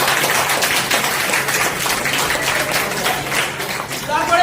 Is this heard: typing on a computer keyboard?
no